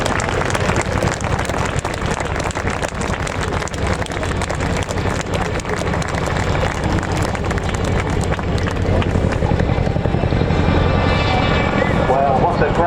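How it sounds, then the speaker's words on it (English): A Royal Air Force Chinook twin-rotor helicopter flies an airshow display, its loud, continuous rotor chop and turbine roar filling the air, with a public-address announcer speaking over it. "please put your hands together for the 2024 Chinook Roll Demonstration"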